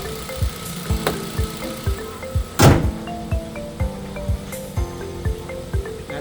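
A well-kept car with dealer-serviced maintenance idles smoothly, giving a low steady hum with faint regular ticking and one brief louder knock partway through, no speech.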